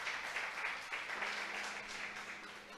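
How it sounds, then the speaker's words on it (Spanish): Congregation in a church service applauding, a steady, fairly quiet wash of many hands clapping that carries on for a few seconds without speech. "Vamos a darle un aplauso grande al Señor de la gloria"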